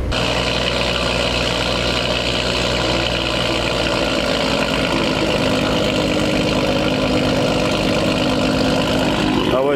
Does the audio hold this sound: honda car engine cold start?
yes